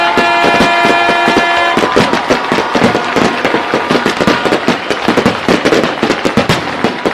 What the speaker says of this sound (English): we got fireworks off in the distance as Valpo makes their way out onto the